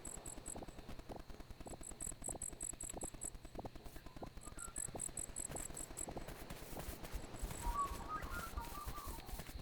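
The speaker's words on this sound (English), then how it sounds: "I can hear a cricket." A cricket chirps in the video game Dinkum, a faint, steady run of short, evenly spaced trills over a soft ambient game background, with no speech.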